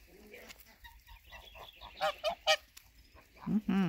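Several loud goose honks ring out close by, clustered in bursts with short gaps, ending in a pair of harsh, nasal calls.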